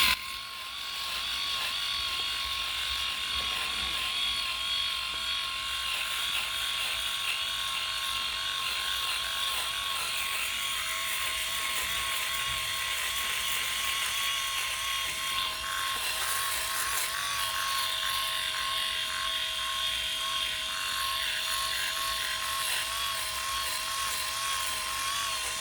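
Philips i9000 electric shaver running steadily against the face during a shave, a continuous close high-pitched motor whine and buzz with no talking.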